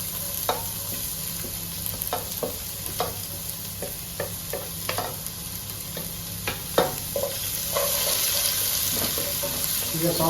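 Cloves, bay leaf, garlic and green chillies frying in a pan for methi chicken, a steady close sizzle with frequent clinks and scrapes of stirring, growing slightly louder toward the end, no talking.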